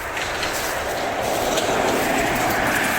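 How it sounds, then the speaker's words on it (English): A steady rumbling rush of a train rolling past nearby, continuous and fairly loud for the whole stretch. "I thought I heard the train."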